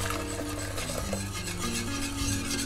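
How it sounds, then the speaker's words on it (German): A whisk or spoon scrapes and swirls through cream in a pot over mild heat, a continuous rhythmic rubbing and scraping with faint metallic tones from the pot, close up and without speech. "Und unter Rühren aufkochen lassen."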